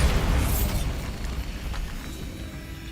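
A Bombarda blasting spell detonates in the video game Hogwarts Legacy, a loud booming explosion with a heavy low rumble that bursts at the start and then slowly decays over about three seconds, with no talking.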